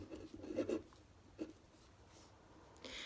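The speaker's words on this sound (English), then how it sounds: "maybe I will write relaxed" Pen or pencil writing a word on paper, faint scratchy strokes in two short bursts, close and quiet with a soft rustle near the end.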